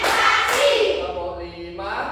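A short burst of hand claps from a group doing a counted clapping routine, loud and close, with voices chanting around them.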